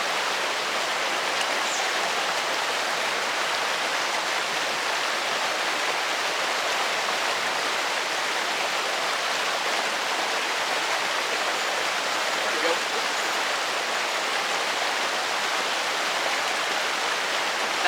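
Steady, full rush of a waterfall pouring into a small creek pool, a continuous broadband roar close by with no talking.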